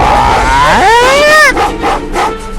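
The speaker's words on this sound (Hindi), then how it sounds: "अचानक हवा में एक गुर्राहट फैल गई" An animal's snarling growl used as a sound effect in a horror audio drama, loud and close, with a rising howl-like cry followed by rough, choppy growls.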